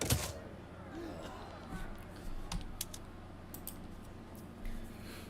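Quick, uneven keystrokes clatter on a computer keyboard in short bursts, fairly close and moderately loud, with a faint voice and room noise in the background.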